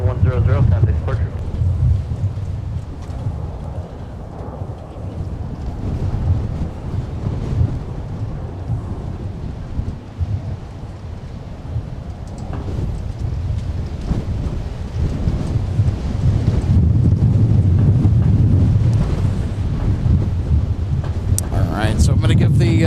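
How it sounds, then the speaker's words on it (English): Fierce gusty wind buffets the microphone at an airport, a loud rumbling roar that swells and eases in surges over nearly the whole stretch. "our fierce wind conditions will continue to pound"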